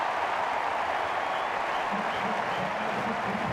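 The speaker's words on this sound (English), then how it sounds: "Crowd encouraging this offense on 3rd and 7." A college football stadium crowd at Indiana against Washington cheers on third down, a continuous loud roar of voices and clapping that fills the whole stretch without a break.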